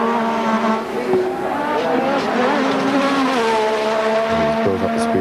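Several Formula One race cars at the 1986 Australian Grand Prix qualifying session scream at full speed, loud and sustained, their engine pitches rising and shifting, with faint crowd and track noise beneath.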